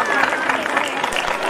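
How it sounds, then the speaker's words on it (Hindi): An audience at a Ramlila stage event in Azadpur breaks into steady, loud applause, a dense wash of clapping that lasts the whole short moment. "जोरदार तालियां।"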